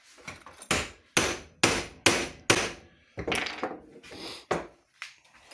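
Metal strikes on a punch while assembling a Buddy L toy tractor van ring out as about a dozen sharp, close, ringing hammer blows in an uneven rhythm.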